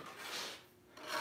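A hand saw resaws 8-inch wide walnut, giving a quiet, raspy rubbing stroke that rises and fades, then starts again.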